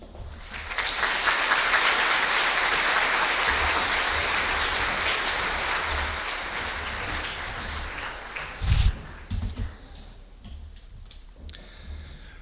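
An audience applauds at an academic conference on the Jalisco judiciary, a dense sustained clapping that swells and then thins out into a few scattered claps, fairly loud and without speech.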